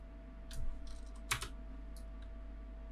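Computer keyboard keys are pressed in a few short clicking bursts during 3D modelling work in Maya, faint and close over a steady low electrical hum.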